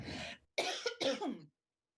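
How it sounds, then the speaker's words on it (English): Two or three harsh coughs in a row, close and fairly loud, with a short pause after the first burst. "I have to cough."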